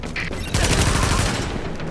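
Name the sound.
gunfire in video game The Division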